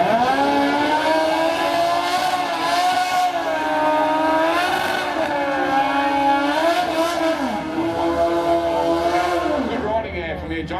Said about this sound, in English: Dean Jamison out here on board the Suzuki